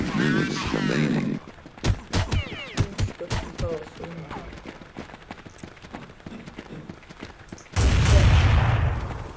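Gunfire in the Counter-Strike 1.6 game rattles in a dense automatic burst, then sounds as scattered sharp single shots, and ends in another sustained burst, with people talking throughout.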